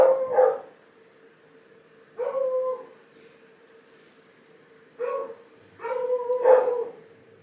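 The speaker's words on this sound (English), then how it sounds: "And typical with the dogs started barking." Dogs barking indoors in loud bursts separated by quiet gaps, with a short first volley, a second burst, then a longer run of barks near the end, all close by and without talk.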